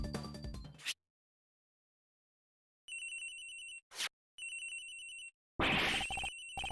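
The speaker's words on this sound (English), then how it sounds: "Agent Hicks' phone. It's ringing from somewhere." A telephone rings in the Ace Attorney Investigations video game: after a brief burst of other game sound, three clean, electronic ring bursts repeat with short silent gaps, followed by a louder jingle at the end.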